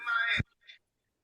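A short phone tone sounds, a bright electronic beep lasting under half a second, followed by a fainter brief chirp, close and alone.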